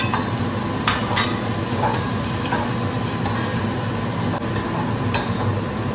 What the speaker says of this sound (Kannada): ಪಾಲಕ್ ಸೊಪ್ಪು ಹಾಕೋತಾ ಇದ್ದೀನಿ